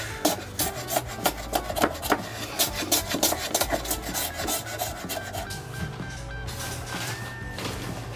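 A carpenter shaving wood down to fit during a renovation, with repeated rhythmic rasping strokes of a file or plane on the timber, close and clear, followed by softer scraping.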